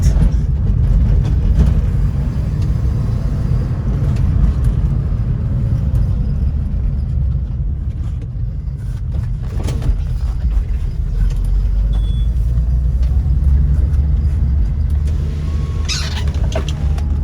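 A BMW E30 325e pulls along in second gear, its engine a steady low rumble of road and cabin noise that holds throughout with no break.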